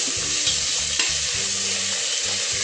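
Finely chopped onions fry and sizzle in a pressure cooker for Marathi-style vajri masala, with a steady, loud hiss and repeated rhythmic stirring scrapes throughout, no voices.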